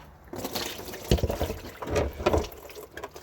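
Gear oil pours from the transmission drain of a Porsche Boxster 986 during a fluid change, a near, steady liquid gush with splashing surges and no voices over it.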